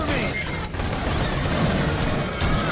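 Dense gunfire from marines shooting aliens in the game Aliens: Colonial Marines, a continuous loud barrage of rapid shots and booms filling the whole stretch.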